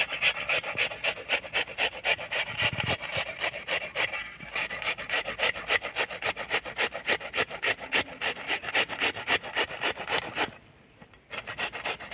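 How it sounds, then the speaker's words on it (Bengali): An onion rubbed against a hand grater for juice, making close, steady rhythmic rasping strokes that continue for several seconds, with a brief pause near the end and no talking. "পেঁয়াজটাকে প্রথমে আমি গ্রেড করে নেব তো একটা গেটার নিয়েছি এই গেটারের সাহায্যে গ্রেড করে নেব পেঁয়াজটাকে"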